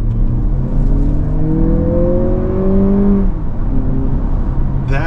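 A Lexus RX 500h hybrid accelerating hard in sport mode, a loud steady engine drone with rising whine tones that climb, drop at a shift, then climb again from inside the cabin.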